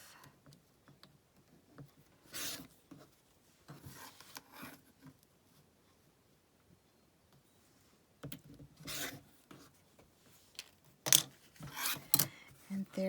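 Quilt block fabric pieces are trimmed with short bursts of cutting and rubbing, close up, coming in scattered clusters separated by quiet gaps, with no talking.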